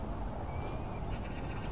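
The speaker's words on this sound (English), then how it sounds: "Oh, there's a horses." A horse in the video game The Last of Us Part II whinnies once over the steady roar of a windy storm, faint and somewhat distant.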